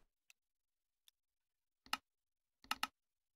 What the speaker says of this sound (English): Let's slap on our cuckoo clock and see what happens.